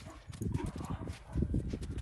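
A stallion's hooves clip-clop in a quick uneven rhythm on hard ground, fairly close and steady, with a brief swell of louder steps partway through.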